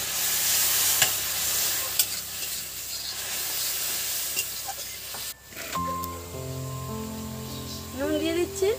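Cauliflower curry in a pan keeps up a loud sizzle and stir noise after a splash of water goes in, then drops to a quieter simmer with tonal hums and a few whistling tones near the end.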